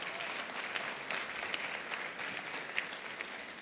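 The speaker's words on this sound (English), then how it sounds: "That deserves a round of applause, don't you think?" An audience at a wildlife refuge awards ceremony claps steadily in a sustained round of applause, dense and even throughout with a few sharper claps standing out.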